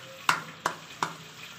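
Potatoes fry in a pan under a soft background sizzle, broken by three sharp, evenly spaced clacks of a utensil against the pan, close by.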